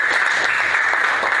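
A classroom audience claps together in a steady, dense burst of applause that fills the whole short moment at an even level, with no speech over it.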